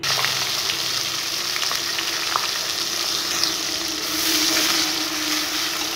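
Chopped onions fry in hot oil, a loud, dense, continuous sizzle heard up close that holds steady throughout, with a brief swell near the end and no voices.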